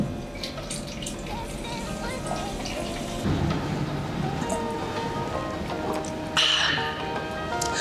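Water runs from a water cooler in a small room on a campus, a continuous splashing flow with a louder gush near the end.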